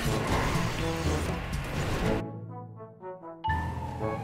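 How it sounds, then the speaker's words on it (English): A car crashes in the video game GTA Online just after leaving Los Santos Customs, a loud, noisy impact with clattering debris that cuts off into quieter mechanical tones before another burst of noise. "Crashing your car when you just got out Los Santos Customs."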